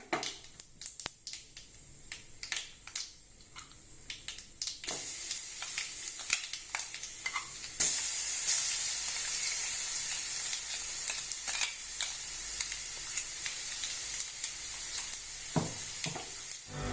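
Ground garlic paste drops into hot oil with turmeric in a pan for garlic thokku, bringing a sudden loud sizzle after scattered clicks and scrapes. A steady hiss of frying follows, with occasional stirring taps.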